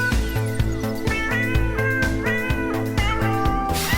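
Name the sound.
cats meowing in a jazz tune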